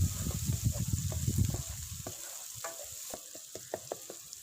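Green chilies with ground coriander and garam masala frying in a pan, a busy crackling sizzle with heavy stirring at first, thinning to sparse pops and scrapes.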